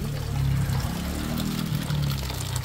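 Water pours steadily into a bottle in a continuous low gurgling stream, close by, with no talking.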